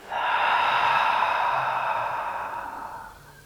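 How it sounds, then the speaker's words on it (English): A single long, deep breath exhaled through the mouth during a yin yoga session, close and breathy, swelling quickly and then slowly fading over about three seconds. "Take a deep inhale through the nose. Exhale out the mouth."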